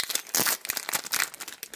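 White graphite transfer paper from Royal and Langnickel crinkles and rustles in quick, close bursts as it is handled for transferring a pastel sketch, with no talking.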